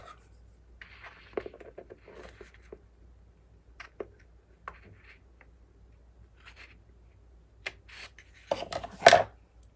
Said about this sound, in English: Let's trim that up just a bit.